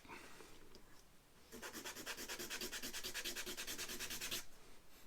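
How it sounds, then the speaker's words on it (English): Steady rhythmic sanding of a wooden piece, worked down a little at a time to a set dimension, with quick even back-and-forth rasping strokes starting after a quiet moment and running close and clear for about three seconds. "all I need to do is sand to that dimension."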